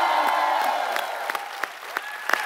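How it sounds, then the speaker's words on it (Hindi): A TV studio audience applauds, with soft, sustained clapping and a few sharper claps that stay fairly faint throughout the short stretch. "आप सबकी जोरदार तालियों के बीच बुलाना चाहूंगा गीता और बबीता फोगाट को"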